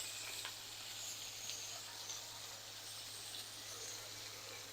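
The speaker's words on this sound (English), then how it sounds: "Get us a good sear going on that side." A steak sears in butter in a cast iron pan, giving a steady, soft hiss and sizzle with faint crackles throughout.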